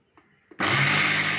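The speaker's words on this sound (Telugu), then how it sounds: "ఈ చల్లారిపోయింది, ఇది మిక్సీ పట్టాలి." A kitchen mixer grinder starts abruptly and runs loud and steady, grinding cooled, cooked chana dal after a couple of faint knocks.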